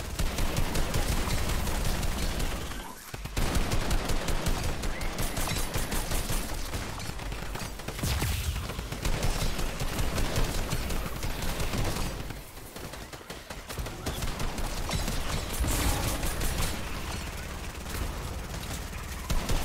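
Dense, rapid gunfire rattles almost nonstop in loud bursts, with brief pauses between volleys, in Fortnite-style Horde Rush combat.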